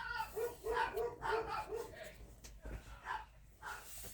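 Several household dogs bark in a quick burst of yapping calls, fairly faint and somewhat distant, with a few scattered barks after a pause.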